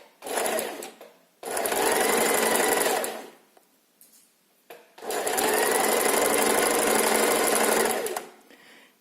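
A sewing machine stitches an invisible zipper in two runs, a short burst then longer steady stretches of fast, even motor-driven stitching close up, with quiet gaps between.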